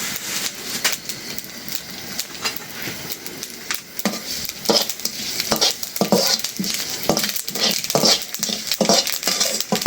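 Panch phoron spices toasting in a pan before mustard oil is added, a loud steady sizzle with repeated sharp stirring scrapes and clatters of a utensil against the pan.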